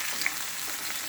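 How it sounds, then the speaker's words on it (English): Food, ahead of ackee and saltfish, frying in a pan over lowered heat, giving a steady, close hiss of sizzling oil with no voices. "I'm just gonna fry these for"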